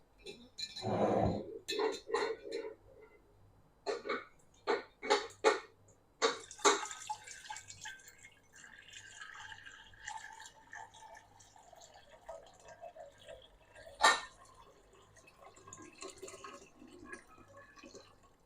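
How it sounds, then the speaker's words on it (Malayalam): Beetroot mixture for homemade beetroot wine poured through a strainer into a dry jar, heard as close trickling, dripping and splashing with intermittent clinks, faint and irregular over about eighteen seconds. "ഇത് ഭരണിയിലേക്ക് ഒഴിച്ചു കൊടുക്കാം"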